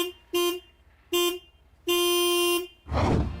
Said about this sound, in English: this car has such a puny sounding comical horn